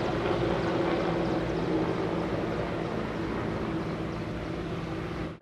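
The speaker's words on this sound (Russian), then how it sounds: "После разведывательных полетов вертолет набирал воду в реке Самара и каждые 10 минут сбрасывал на место происшествия более 3 тонн воды." Firefighting helicopter flying over a burning warehouse, water drops taken from the Samara River: a steady, loud broadband rotor and engine roar with a low throb, continuous and close, with no talk.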